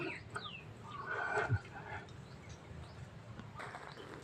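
Chickens cluck at a temple in Lampang, Thailand, with a few soft clucks and calls against an outdoor background, plus scattered faint shuffling nearby.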